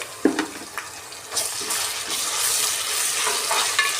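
Ginger paste fries in a hot pan for a vegetable khichdi, a steady sizzle with scraping and clinking of a spoon as it is stirred, close by and continuous.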